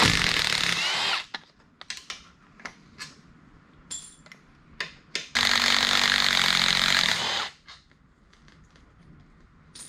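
A ratchet and power tool loosen 13 mm bolts on an SRT4 transmission cover. Two long loud bursts of whirring are separated by a run of sharp clicks and clanks, and the tool sounds close.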